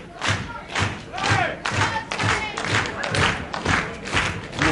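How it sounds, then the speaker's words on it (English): Wrestling arena crowd keeping up a steady slow hand clap, about two beats per second, loud and rhythmic with crowd murmur and shouts mixed in. "The slow hand clap is 4."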